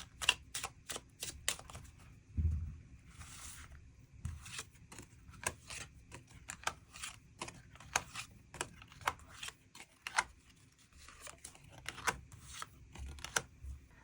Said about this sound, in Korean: 추가 카드로 일별로 월요일부터 일요일까지 어떤 하루하루를 보내게 될지 추가 카드 뽑아보도록 하겠습니다.